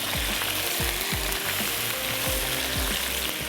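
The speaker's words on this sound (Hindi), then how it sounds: "इसमें हम शामिल कर देंगे गोश्त जो कि हमने बॉईल करके रख लिया है और इसको अब हम भून लेते हैं" Boiled mutton fries in garlic-ginger paste with a steady, loud sizzle, with repeated low thumps and scrapes of a spoon turning the meat at a regular rhythm.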